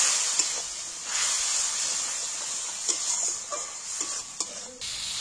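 Spice paste with Kashmiri red chilli hisses and sizzles in a pan after a splash of water, a continuous steamy spitting with a few small scraping clicks, alone and without talk.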